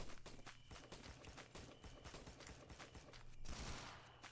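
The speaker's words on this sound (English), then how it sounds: "how is there so many people shooting at each other?" Distant gunfire from many players in the survival game XERA Survival: a steady stream of faint, scattered shots and bursts crackling far off, with no one talking.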